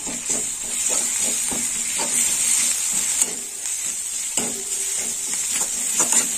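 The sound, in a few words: stirring ginger and garlic paste frying in a pan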